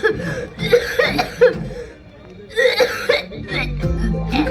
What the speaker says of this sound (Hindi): खांस रहे हो।